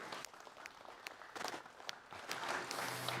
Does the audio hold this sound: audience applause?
yes